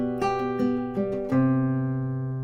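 Classical guitar plucks a short run of notes that settles into a single sustained C, ringing clearly and close by with no voices.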